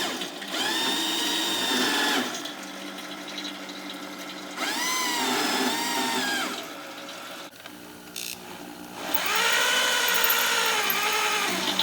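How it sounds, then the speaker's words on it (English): Power drill spinning the oil pump shaft of a rebuilt Toyota 2F engine, loud whining runs in three long bursts with pitch rising and falling, close and mechanical, no talk. "Then we'll just get the drill, and we'll chuck it onto the end of the shaft there, and then we'll spin it."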